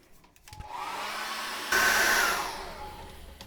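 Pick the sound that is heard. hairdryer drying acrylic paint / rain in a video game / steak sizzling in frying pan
hairdryer drying acrylic paint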